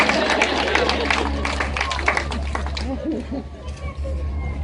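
Outdoor crowd applause at a memorial ceremony for an Alzheimer's walk, a steady wash of clapping and murmuring voices over a low rumbling hum, with people talking through it.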